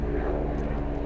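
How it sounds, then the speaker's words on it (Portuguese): An airplane passes overhead, a steady low broadband engine rumble that fills the whole short stretch at moderate level, with no voices over it. "Vamos deixar o avião passar agora"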